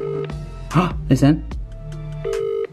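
A mobile phone ringing from inside a washing machine, a muffled steady tone repeating in short bursts, with people talking close by in between.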